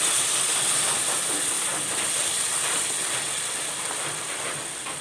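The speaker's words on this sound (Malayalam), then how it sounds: "ഇപ്പം വിനാഗിരിയൊക്കെ ഒന്ന് തിളച്ചിട്ടുണ്ട്" Half a cup of vinegar boils with asafoetida in a pan for hog plum pickle, giving a steady, loud, close hiss that eases off slightly over five seconds, with no voices.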